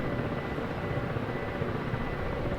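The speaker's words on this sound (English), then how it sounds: "Just maneuvering my helicopter to be in a good position." Continuous rotor and engine roar from a helicopter being maneuvered into position over a tank training exercise, dense and steady throughout with no pauses.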